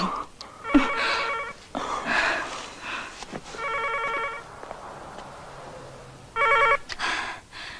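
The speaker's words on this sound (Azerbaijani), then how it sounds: "Telefon." A telephone rings in a scene from an Azerbaijani feature film. Four loud, clear bursts of electronic ringing are separated by quiet gaps and faint background sounds.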